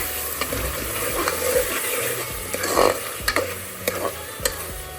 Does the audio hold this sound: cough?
no